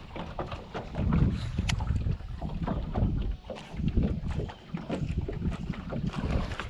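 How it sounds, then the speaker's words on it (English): Strong gusty wind from a summer cold front buffets the microphone continuously on Lake Lanier, a loud rumbling roar with water lapping underneath. "it's really windy."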